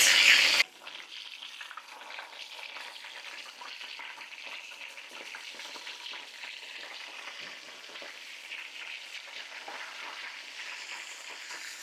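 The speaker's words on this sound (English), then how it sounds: "Our rice is starting to simmer." Rice simmering in a covered pot on a stove between medium and low heat, a steady, soft bubbling hiss that carries on evenly after a brief louder noise at the start.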